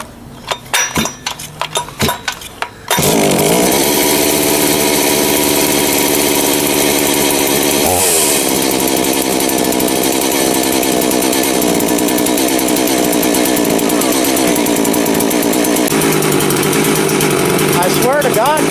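A Neotec 872i budget chainsaw is cold-started on a chilly day: a few short pulls and sputters, then the engine catches and runs loud and steady close by, revving and settling for the rest of the stretch.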